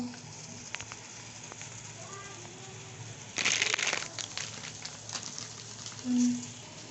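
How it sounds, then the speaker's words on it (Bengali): Water coming to a boil in a wok, a low bubbling and crackling simmer close by, with a sharper burst of sizzle partway through and a few brief clicks and knocks. "ভালোভাবে জলটা ফুটে উঠছে"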